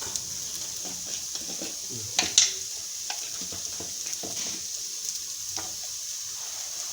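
Tuna pickle fries in a pan with a soft, steady sizzle and a few light clinks and taps of stirring, fairly quiet and close.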